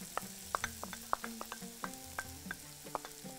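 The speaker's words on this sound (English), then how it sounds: "we saute the garlic" Garlic sautéing in a pan for Bahraini biryani gives a quiet sizzle under a run of light, irregular clicks and taps as it is stirred.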